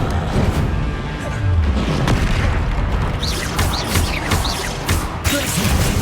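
Blasting-curse explosions in the video game Hogwarts Legacy: loud, dense booms and crashes run continuously over a busy combat mix, with sharp bursts in the second half.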